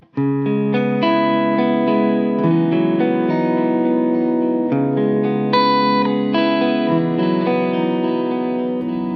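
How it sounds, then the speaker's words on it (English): Clean electric guitar chords from a Mayones guitar on the neck pickup, ringing out with lush reverb and delay trails, sustained and fairly loud, with no voices. "I've switched the amp to a clean mode and I've got some reverb and delay"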